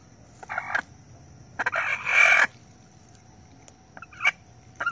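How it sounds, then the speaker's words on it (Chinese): A hen squawks and clucks loudly in several sharp bursts, with short gaps of quiet between the cries, as her back and legs are pressed and massaged indoors. "按推时鸡叫得特别厉害"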